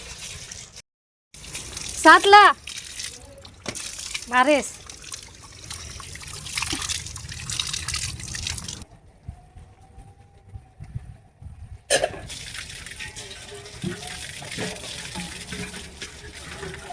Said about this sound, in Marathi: तोपर्यंत पाणी आले